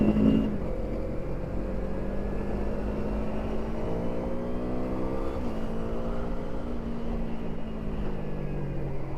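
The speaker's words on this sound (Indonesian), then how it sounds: "Motor sport 2 silinder 250 cc, tapi nggak perlu ganti kopling." A 250cc two-cylinder sport motorcycle engine with automatic gear shifting idles and revs steadily, its pitch rising and falling smoothly as it shifts, running continuously and close by.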